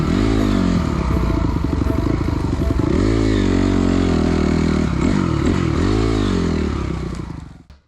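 A Honda CRF enduro motorcycle engine drones loud and close while riding off-road, its pitch dipping and rising with throttle changes and gear shifts, then fading at the end.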